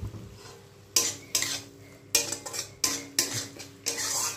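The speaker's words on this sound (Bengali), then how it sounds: "মশলা কষানো প্রায় হয়ে এসছে," A spoon scrapes and stirs spice paste frying in oil in a pan for a Bengali parshe fish jhal, in a steady series of sharp, close scraping strokes over a low background hiss.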